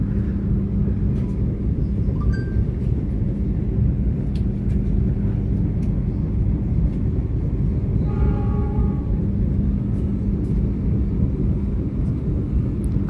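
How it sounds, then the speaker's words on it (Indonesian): Papandayan passenger train running straight through Haurpugur station without stopping, a heavy continuous low rumble of wheels and engine close by, with a short horn-like tone in the middle. "Kereta api Papandayan melintas langsung stasiun Haurpugur."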